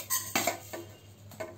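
A metal cooking pan being handled before roasting whole spices such as coriander seeds for kadhai paneer: a few sharp clanks and clinks in quick succession, close and clear over a faint steady hum, with no talking.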